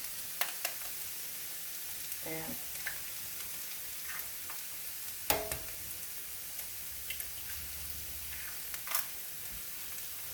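Eggs going into frying poke salad greens cooked in grease, a soft steady sizzle with scattered light clicks and taps of a utensil, no voices.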